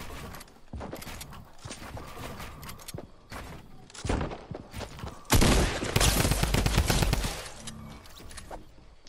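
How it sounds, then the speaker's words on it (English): Rapid bursts of shotgun and automatic gunfire in a shooter video game, loud and close, with several short volleys followed by a heavier sustained barrage. "They keep shooting."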